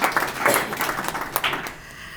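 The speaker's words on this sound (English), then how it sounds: "You can clap for yourselves." An audience at a United Nations gathering on widows applauds itself in a short burst of clapping, a few sharper claps rising above a loose, moderately loud patter before it thins out.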